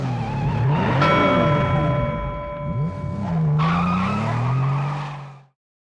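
A Porsche pulling away in a movie scene: loud tire squeals and skidding over a revving engine, pitch sliding up and down through several screeches before cutting off abruptly.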